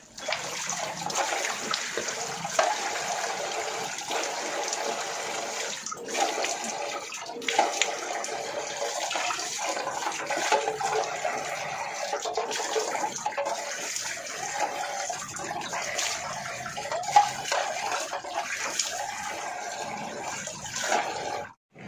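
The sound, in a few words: water running while washing off face powder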